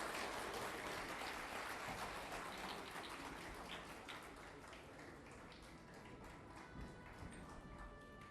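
Dense, steady applause from a large audience at an evening tribute to fallen soldiers in Uttarakhand, a continuous rain-like patter of many hands that holds at an even level for the whole stretch.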